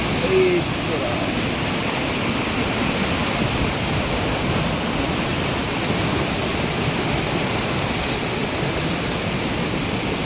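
The Chillithodu waterfall near Adimali in Idukki sends rushing water down a rocky slope, making a loud, constant roar that fills the whole stretch without pause.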